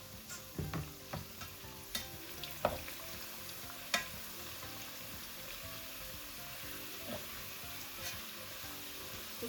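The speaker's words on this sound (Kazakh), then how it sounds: "Майымыз қызды. Енді қамырымызды салатын боламыз." Chak-chak dough frying in hot oil, a steady close sizzle and bubbling with scattered small pops and crackles throughout, no voices.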